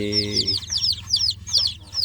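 A village hen clucks low near her newly hatched chicks, then rapid, high, repeated chick peeps keep coming in quick bursts close by.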